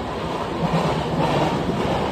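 A late-night suburban train bound for Dombivli rumbles along in a steady, loud, broadband roar heard from inside the carriage, with no talking.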